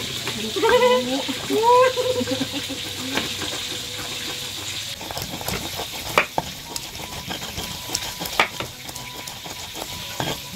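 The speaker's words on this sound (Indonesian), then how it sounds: "sekarang lanjut menggoreng jengkol dekil" Oil crackles and sizzles steadily as jengkol beans fry, with occasional stirring clinks and scrapes; a voice speaks briefly near the start.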